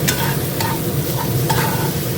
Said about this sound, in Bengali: মশলাটা কষছি যে মশলাটা দিয়েছিলাম একটু টমেটো দিয়েছি